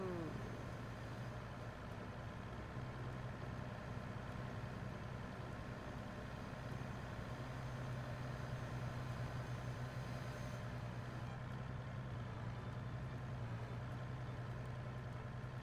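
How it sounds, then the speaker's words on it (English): Engine drone of an ambulance driven in a farming and transport video game, a steady low rumbling hum with a constant tonal whine, continuous and even throughout. "This is my ambulance car."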